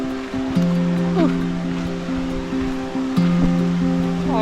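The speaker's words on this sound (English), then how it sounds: "The waterfall. Approaching. People in the water." A desert waterfall with people in the water gives a steady rushing wash, overlaid by a sustained tonal hum that shifts pitch now and then.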